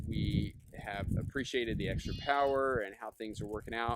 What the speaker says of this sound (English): if you hear something screaming like that, that is the goats next door